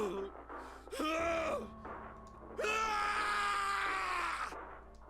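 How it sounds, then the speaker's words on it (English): A male character screams in the incinerator chamber in the video game 999: two long, strained, raging cries, the second longer, over a low droning background. "His scream echoed through the incinerator chamber, full of rage and despair."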